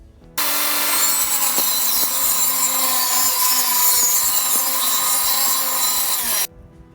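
A power saw rips steadily through a wood board, trimming off the tongue while building shutters: one loud, continuous whining cut lasting about six seconds with a low motor drone, starting and stopping abruptly.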